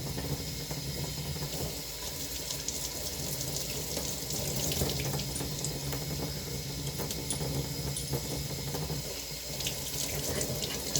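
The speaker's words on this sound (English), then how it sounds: "I'm just going to rinse out my valve caps here." Tap water runs steadily into a sink as trumpet valve caps are rinsed under it, a continuous close splashing hiss with faint metallic clinks mixed in.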